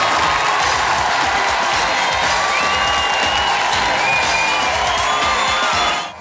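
A studio audience at a Leeds television quiz show cheers and applauds, a loud continuous wall of clapping and whoops sustained throughout before fading at the end.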